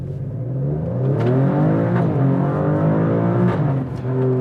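A 2021 Alfa Romeo Stelvio Quadrifoglio with race mode engaged accelerates hard, its turbocharged engine rising in pitch through a loud, close, sustained roar with brief shifts along the way.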